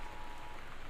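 Steady rain patters and hisses evenly on surfaces in the Gone Home video game, a soft continuous wash with no voices.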